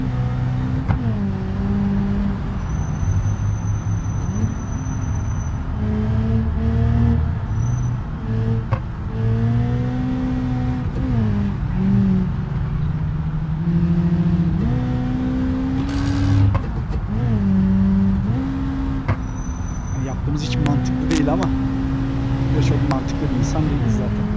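A turbocharged Lada 2101 in BeamNG Drive revs hard through shifting engine pitches as it races along, loud and continuous, with a voice talking over it.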